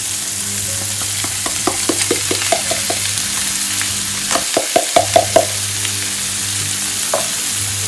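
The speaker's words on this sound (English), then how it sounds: "We're going to continue mixing" Champignon mushrooms sizzle loudly in a frying pan as a utensil stirs them, with a series of scraping taps and clicks over the steady frying hiss.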